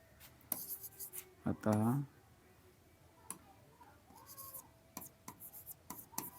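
Pen writing during a Hindi-language class 10 maths lesson on number systems, faint scratchy strokes and ticks spread across the clip, with a short burst of speech near the start.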